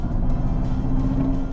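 A Mercedes EQS electric car accelerates with a smooth rising whir over a low road rumble, steady and close, with no engine roar.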